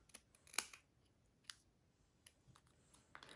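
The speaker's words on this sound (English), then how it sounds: "I'm going to grab 2 of my snowflakes, the larger and the smaller one, and I'm going to cut each one apart in half." Scissors snipping through paper snowflakes to cut them in half for a reindeer Christmas card, a few quiet separate clicks and snips spaced out over a few seconds with no talking.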